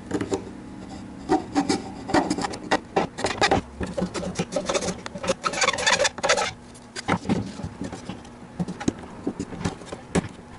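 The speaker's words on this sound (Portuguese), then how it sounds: "eu acho que eu vou passar uma lima, dar uma lixada ali" Hand file rasping on a plastic 3D printer part for the Y arm of a Printrbot 1405, a series of close, rough rubbing strokes in uneven rhythm, with birds cooing faintly in the background.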